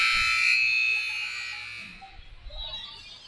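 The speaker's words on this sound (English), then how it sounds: "they're sending Morse code with the buzzer" An electronic buzzer sounds at a basketball game, a loud, sustained harsh tone that cuts off after about a second, followed by faint crowd noise.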